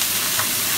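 Hot oil sizzles steadily in a large wok over high heat, a dense, loud frying hiss that holds evenly throughout, with no voices over it.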